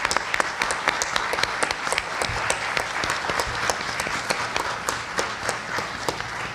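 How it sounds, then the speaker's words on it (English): An audience at a Bharatanatyam arangetram gives sustained applause for the musicians, many hands clapping in a dense, even patter with sharper individual claps poking through, continuous for several seconds. "A big round of applause for all our musicians."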